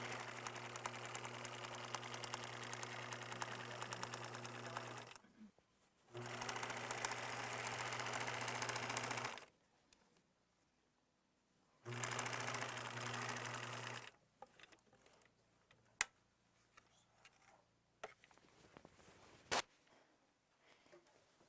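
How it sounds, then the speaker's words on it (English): A sewing machine stitches trim onto a pillowcase along a marked line in three loud, steady runs of motor whir separated by pauses, with soft handling noises and clicks between runs. "Now I'm sewing right on that line that I marked."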